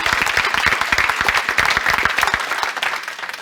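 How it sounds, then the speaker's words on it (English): A business breakfast audience gives sustained, dense applause for a panel discussion, loud and close, with the clapping easing slightly toward the end. "Let's give our incredible panelists a round of applause."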